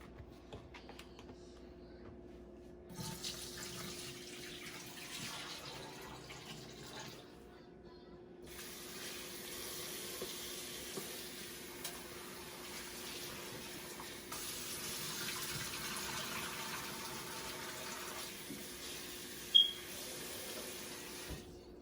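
Fish rinsed under a running kitchen tap while dead skin is pulled off, for a Nigerian Ofe Owerri soup; a steady low wash of water runs throughout with louder bursts, and a sharp knock near the end.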